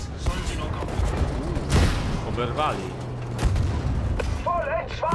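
Bursts of Battlefield V gunfire and booms ring out amid a noisy battle soundscape, with someone speaking briefly in Polish.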